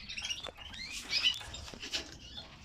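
Red lovebirds (red lutino) in a cage give faint high chirps and tweets mixed with light wing flutters and shuffling, moderately close.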